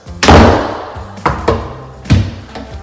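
An office door that won't latch is slammed shut three times, each a loud, near thud followed by a short rattle. The slams come about a second apart with quieter handling noise between them.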